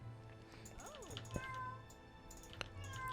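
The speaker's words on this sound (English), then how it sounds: "There's a cat behind me." A cat meows faintly behind a player of Might and Magic VI, a few rising and falling calls set against steady game sounds, with short clicks and a continuous background hum.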